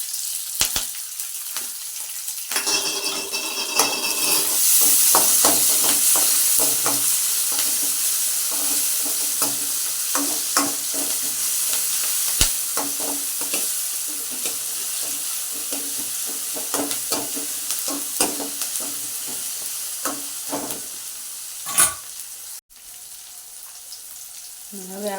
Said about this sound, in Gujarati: તો જો ડુંગળી સતડાઈ ગઈ છે.